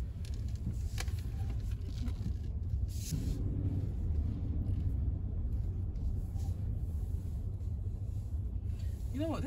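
A Lincoln Navigator SUV drives along with a steady low engine and road rumble heard from inside the cabin, continuous throughout, while people talk over it.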